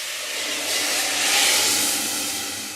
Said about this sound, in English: so listen for the sizzle.